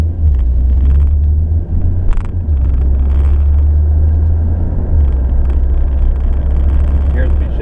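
A 2012 Ford Focus SEL drives in select shift mode, automatic shifting, its engine a steady, loud low rumble with slight dips as gears change, while a person talks over it.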